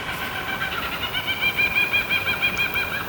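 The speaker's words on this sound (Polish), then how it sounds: "Nie wiem, czy słyszycie w tle kabury, czyli te śmiejące się ptaki" Distant, faint laughing kookaburra calls rising and falling in rhythmic bursts over a steady background hiss, in Australia.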